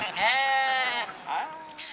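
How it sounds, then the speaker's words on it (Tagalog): Sheep bleat on a farmstead in Lipa City, Batangas. One long, loud, wavering bleat comes first, then a shorter second call, both close by against faint background noise. "tupa,"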